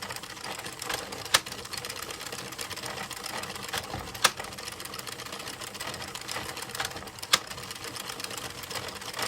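A knitting machine carriage runs back and forth over a steady mechanical whir, with a few sharp clacks at intervals, close and without speech.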